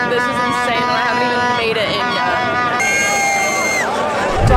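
A dense, packed crowd at the Copa America final fills the air with a loud, continuous roar, with sustained chanting or horn tones running through the broad wash of noise.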